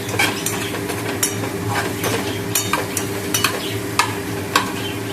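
A chicken dish cooks in butter in a pan, giving a constant close sizzle while a utensil stirs, with a string of sharp clinks and scrapes against the pan.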